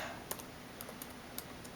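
Keys typed on a computer keyboard while entering an operating system name to set up a Windows 7 virtual machine, a few faint, scattered clicks in a quiet room.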